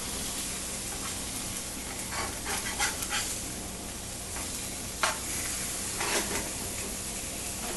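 Marinated tilapia sizzles steadily in a frying pan after being turned, a constant hiss with a few louder pops and spatters, with no talking.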